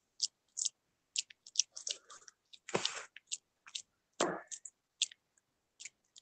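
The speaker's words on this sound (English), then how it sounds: "What you chewing on, girl?" Someone chewing food close by, a series of short, crisp, moist bites and crunches in an irregular rhythm with a couple of louder squishy chomps, no talking.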